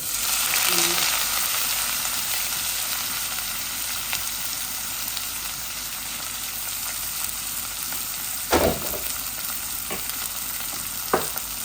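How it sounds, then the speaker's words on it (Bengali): Onions hit hot oil with browned bay leaf and cumin for a sweet potato and dried fish curry, a loud continuous sizzle with a few sharp utensil knocks as they are stirred. "আমার তেজপাতা জিরা লাল হয়ে গেছে, এখন আমি পেঁয়াজ দিলাইরাম।"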